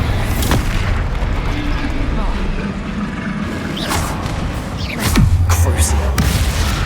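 Bombarda explosion spells in the Hogwarts Legacy game erupt as a few booming blasts with a noisy, continuous combat backdrop, the strongest heavy thud landing near the end.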